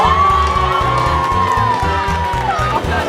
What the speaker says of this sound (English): But everyone give a round of applause for